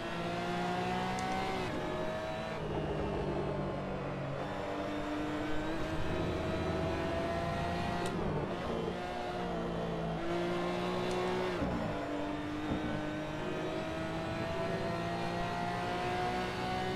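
Porsche Cayman GT4 Clubsport race car engine in the Assetto Corsa racing game, a steady loud engine drone with rising and falling revs through gear changes, other cars audible nearby, no talk.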